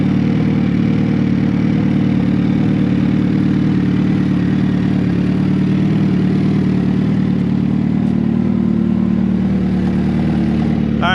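A warmed-up 2022 Suzuki Hayabusa motorcycle engine idles, giving a loud, close, steady low rumble that runs unbroken throughout with no talk.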